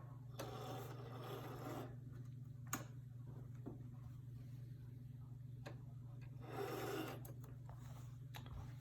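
A sewing machine back stitches a fabric face mask, a faint steady mechanical whir with soft ticks and a few brief bursts of stitching over a low hum.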